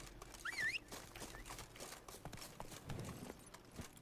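Hooves of Geralt's horse Roach in The Witcher 3: Blood and Wine, a soft, fairly quiet run of clip-clop steps. A brief whistle-like chirp cuts in near the start.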